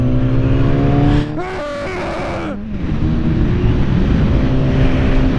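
A Chevrolet Equinox races at GM Proving Grounds, its engine droning loudly and close, then rising and falling in pitch as it surges past before settling back into a steady roar.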